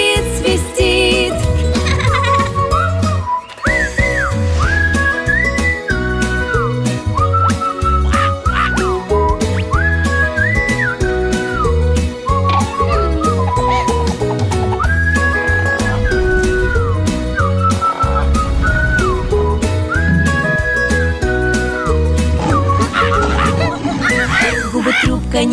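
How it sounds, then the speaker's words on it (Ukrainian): Whistled melody in a children's song about a ferret, bright tuneful whistling over a bouncy musical backing, running through the whole stretch. "весело хорек свистит, свистит, свистит."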